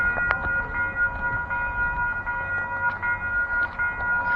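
An MBTA Purple Line commuter rail train at Norfolk station gives off a steady, layered tonal hum. Faint clicks and rumble run underneath at moderate distance, with no talk.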